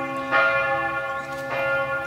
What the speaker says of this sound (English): Cool, damp Wednesday afternoon with church bells here again.